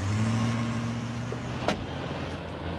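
A car engine hums steadily and then pulls away, with a faint click partway through, and no one speaking.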